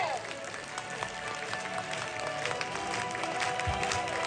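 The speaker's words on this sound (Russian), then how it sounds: "Аплодисменты!" An audience at a stage event honoring mentors claps and applauds in a steady, moderately distant patter, with a voice talking over it throughout.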